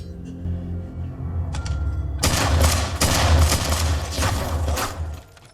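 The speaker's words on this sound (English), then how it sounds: "Oh, he doesn't go down from gunshots." Rapid bursts of gunfire erupt after a quieter start, loud and repeated like a quick volley of shots, then fade out at the end.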